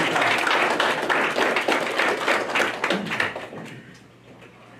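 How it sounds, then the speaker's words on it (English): A hall-of-fame ceremony audience gives a round of applause: dense, steady clapping from many hands that fills the room, then thins out and fades near the end. "So just all of you give yourselves a round of applause for that"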